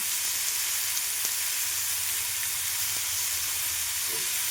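Curry leaves sizzle in hot oil, a steady, loud broadband hiss and crackle that holds evenly from start to finish with no talking.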